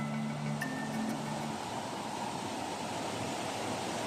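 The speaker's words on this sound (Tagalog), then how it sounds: "Malakas-lakas din yung agos ng tubig." Rushing water at Kipot Falls, a steady broadband roar that runs unbroken and loud throughout, with faint tonal hums in the first second and a half.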